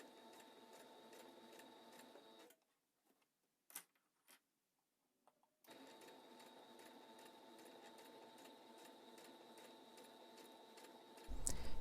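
A sewing machine stitches a zippered pouch in a fast, regular mechanical rhythm. It runs steadily, stops for a few seconds with faint clicks of handling, then starts again, and no one speaks.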